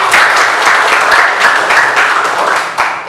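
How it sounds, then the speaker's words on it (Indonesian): Students in a classroom break into loud applause, a dense burst of many hands clapping close by, continuous for a few seconds with no talking over it. "Luar biasa, tepuk tangan"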